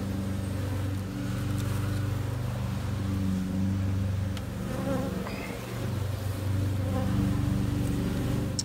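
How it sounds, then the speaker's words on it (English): A neighbor's lawnmower engine drones steadily in the background near beehives, its low hum rising and falling slightly, mixed with the close buzzing of many bees. "Neighbor just cranked up the lawnmower, which the bees are not big fans of."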